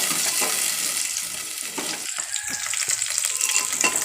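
Small shallots and four green chillies frying in hot oil, a dense close sizzle with crackles and spoon scrapes against the pan, fairly loud and steady, with no voices over it.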